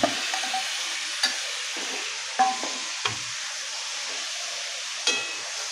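Jackfruit seeds being stirred into masala in a pan, with a steady frying sizzle throughout and a few sharp clinks of the spoon against the pan, close up and with no talking.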